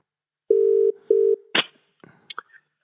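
A telephone dials out: two long steady tones followed by a sharp burst and a few short chirps, loud and close with no talk.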